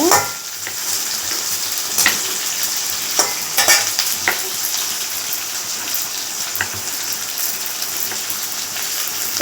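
Two large onions sauté in a pan as masala for masala dosa, with a loud, steady sizzle near at hand and scattered clinks and scrapes of a stirring spatula.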